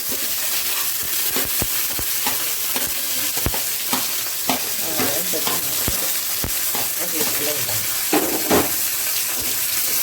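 Onion, green chilli and curry leaves frying in hot oil, a steady loud sizzle and crackle with scattered sharp clicks of a spoon stirring against the pan throughout.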